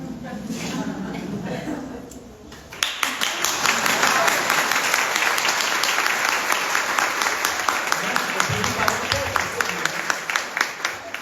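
Applause from an audience at a live book launch swells after a brief lull, a dense steady clapping that carries on loudly to the end.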